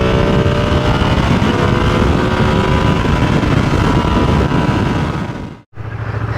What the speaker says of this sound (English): Been a minute since I had the Ducati out.